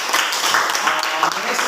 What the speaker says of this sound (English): Give applause to Usman.